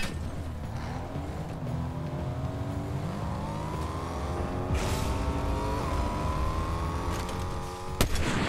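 Car engine droning steadily in a video game, pitch rising and shifting as it accelerates, loud and continuous, with a sharp bang near the end.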